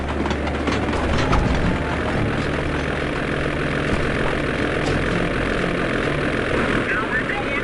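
A plane engine in the Sly 2 Band of Thieves video game drones continuously with a propeller-like throb, steady and fairly loud, with scattered game effects over it.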